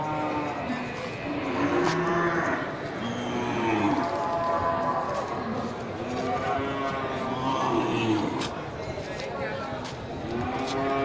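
Aceh cattle low repeatedly in deep, drawn-out moos, several overlapping calls from nearby animals against a busy outdoor background with some human voices.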